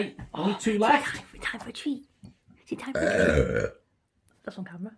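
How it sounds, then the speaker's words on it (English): Loud, drawn-out burps mixed with a person talking, with a short pause between bursts. "Now daddy's finished burping."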